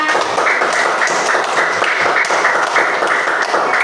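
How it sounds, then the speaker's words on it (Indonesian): Children in a classroom clap their hands together in a steady, busy patter that fills the room, close and fairly loud without letup, with only scattered voices underneath. "tepuk tangan dong untuk kita semuanya"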